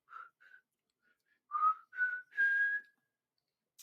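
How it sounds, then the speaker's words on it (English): Someone whistles with the lips, a few short clear notes followed by longer rising and sustained tones, close and solo against silence. "But with that whistle, the lips aren't vibrating."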